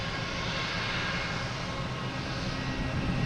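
Airliner taking off from runway 22 Right at Logan Airport, a continuous broadband engine roar heard at a moderate distance, steady throughout with no talking.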